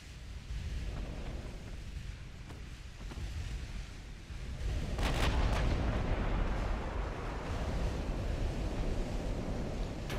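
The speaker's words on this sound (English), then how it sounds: "I need to get my secondaries firing on another target." Battleship secondary guns fire in the naval game Ultimate Admiral: Dreadnoughts during a WW2-era battleship engagement at Jutland, with repeated heavy booms over a constant rumbling roar that grows louder midway.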